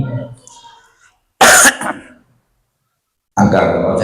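A single sharp cough bursts out between stretches of quiet, with a person talking just before and right after it.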